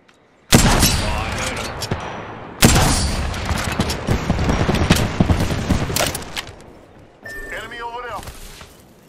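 Apex Legends gunfire rings out in loud bursts, one sharp onset near the start and another a couple of seconds later, each followed by dense rattling fire that thins toward the end.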